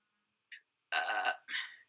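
A single close, fairly loud burp comes out in two rough bursts, the first longer than the second, after a tiny faint click, with silence around it.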